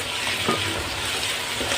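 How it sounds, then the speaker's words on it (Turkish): Onions and peppers frying in a pan, a steady close sizzle throughout with faint stirring noises, no talking. "Bu burada kavrula dursun."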